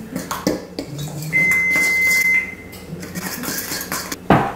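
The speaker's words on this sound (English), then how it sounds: "This would have been a lot easier with a whisk. But a fork will do just fine." A fork mixes batter in a bowl, producing close, irregular clinks and scraping taps against the bowl, with one sustained metallic ring partway through and a sharp knock at the end.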